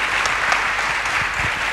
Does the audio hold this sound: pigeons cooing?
no